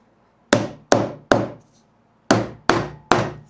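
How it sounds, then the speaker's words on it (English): Six sharp hammer blows tap electric guitar parts flush during a build, sounding as a quick group of three, a short pause, then three more, each a crisp close knock that decays fast. "A little bit of hammer."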